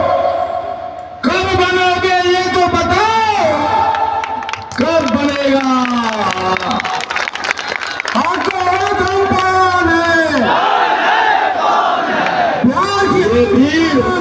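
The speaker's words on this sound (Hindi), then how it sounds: "ये भीड़" A huge crowd of Pana community members at a mass meeting some 250 km from Patna, shouting loudly in unison in long rising and falling waves, close and overpowering throughout.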